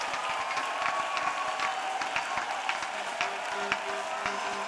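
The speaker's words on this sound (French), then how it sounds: "Clap for Jesus." A church congregation clapping for Jesus at a prayer and testimony service, steady dense applause from many hands with faint voices underneath.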